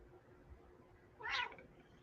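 A single short meow from Sadie, a pet cat, close and clear over a faint hum, lasting about half a second.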